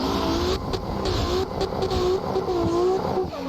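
Simulated drift car engine in Assetto Corsa, fitted from the Gravy Garage car pack, held near steady revs as the throttle is feathered, pitch wavering up and down through a continuous loud drone.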